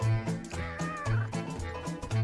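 A cute kitten meows in a short run of plaintive, repeated cries, close and fairly loud, with no talking.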